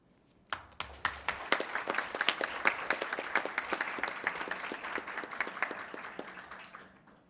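Applause for dentists at a municipal meeting: a small audience's clapping starts abruptly, holds as a dense, even patter of hands in a room, then thins and fades out at the end.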